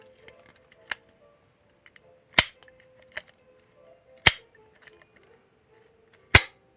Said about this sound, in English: Gotta have a gunshot for our westerns and our shoot 'em ups, right?